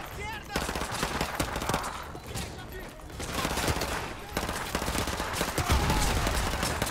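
Rapid bursts of gunfire in Call of Duty: Modern Warfare 2, dense and continuous, with a voice talking over the shooting.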